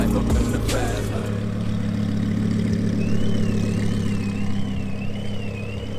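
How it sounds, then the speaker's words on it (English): A 2019 Dodge Challenger R/T with a V8 Hemi engine idles steadily with a deep, even rumble close by, while a thin warbling tone drifts in over the second half. "Today we got the 2019 Dodge Challenger RT V8 Hemi engine."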